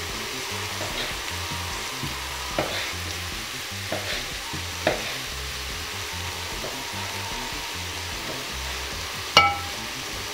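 Meat and onion frying in a pan, a steady soft sizzle running throughout with occasional clicks and knocks from stirring, fairly close and with no talk.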